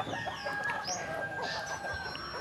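Farm chickens clucking with a rooster crowing, a steady, fairly faint barnyard chorus of overlapping calls and chatter with no voices.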